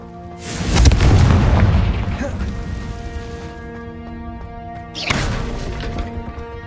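Fiery Confringo blast spell from the video game Hogwarts Legacy: a loud, deep booming burst with a rumbling decay, then a second sharp blast about four seconds later, both over sustained ringing tones.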